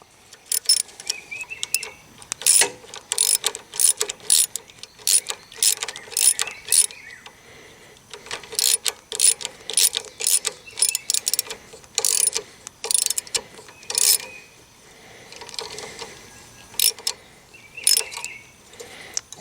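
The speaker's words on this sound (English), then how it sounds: "If you can put the socket on, tighten with the socket and just hold it with the Allen key." A socket ratchet tightens a bolt on a Honda CRF1000L Africa Twin brake install while an Allen key holds it, giving repeated bursts of quick metallic clicking separated by short pauses, close and distinct.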